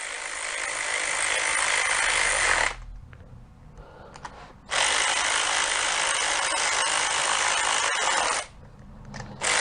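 A ratchet wrench tightening the intake bolts on a 1979 Honda Gold Wing GL1000 engine, two long runs of rapid, loud close-up clicking separated by a quiet pause.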